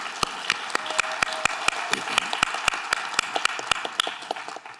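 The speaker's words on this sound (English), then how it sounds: "let's give him a round of applause" Applause from a modest audience at a fentanyl awareness summit, with scattered individual claps standing out as sharp, regular beats over a softer bed of clapping.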